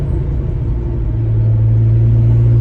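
A BMW 135i N54 engine with a boost solenoid problem holds a steady, loud low rumble at about 2,000 rpm, the hum settling into a firm drone partway through.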